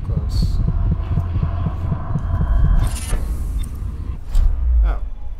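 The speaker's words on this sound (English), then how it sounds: "Do I hear a heartbeat?" Heartbeat effect in the Dishonored video game on PC, a steady low thumping pulse repeating through the clip under game ambience, with brief bursts of other game sounds.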